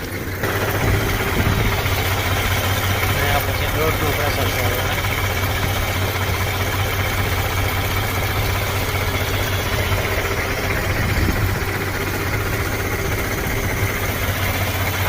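A tractor engine runs steadily at idle, a constant low rumble and vibration throughout with no pauses.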